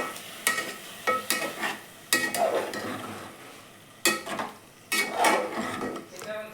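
A spoon stirs carrot halwa with milk in a pan on the stove, giving several scraping, sloshing strokes with metallic clinks of utensil against pan, close and moderate, separated by brief pauses.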